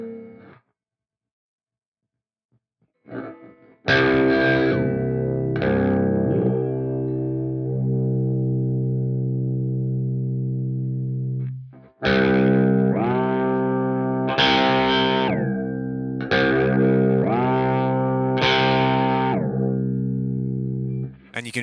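Electric guitar through a Fractal AX8 pitch block, sustained distorted chords whose pitch ramps and swoops when a control switch is pressed, a short phrase then a longer one with repeated bends, loud and alone.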